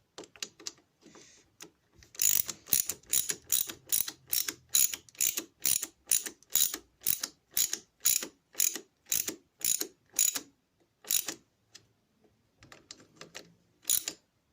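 A ratchet turning a 10mm socket while working on a Kawasaki ZZR 600 motorcycle clicks in a fast, steady run of sharp strokes, pausing briefly a few times before a final burst, close and alone.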